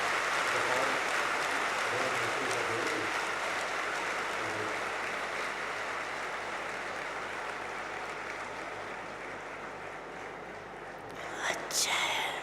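Audience clapping at a BapDada's Day gathering, soft and distant, a steady wash of hands that slowly thins, with a few louder claps near the end.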